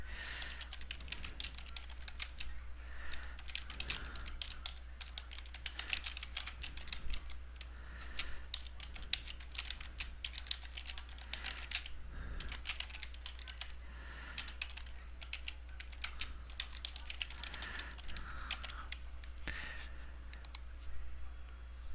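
Typing a Kahoot quiz question on a computer keyboard: quiet, steady clicking keystrokes in short bursts over a low constant hum, with no voices.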